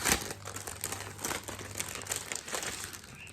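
Large sheets of parchment paper, meant as a cover for a diamond painting canvas, crinkle and rustle continuously near the mic, with sharp crackles at the start and softer handling throughout.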